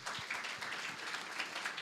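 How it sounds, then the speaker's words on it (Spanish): A church congregation claps steadily for a couple of seconds, a dense, even patter of many hands at moderate distance. "Démosle un aplauso al Señor"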